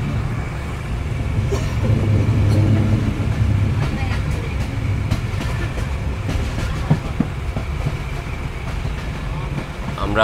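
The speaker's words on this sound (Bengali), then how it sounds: "ট্রেন আবার যাত্রা শুরু করলো গন্তব্যের উদ্দেশ্যে।" The Titumir Express train runs along the tracks on the Rajshahi to Chilahati route, with a continuous loud rumble and scattered rail clatter; someone talks over it.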